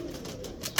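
Two pigeons give a brief low coo while being packed for shipping, a soft murmur followed by a sharp rustling thump close by.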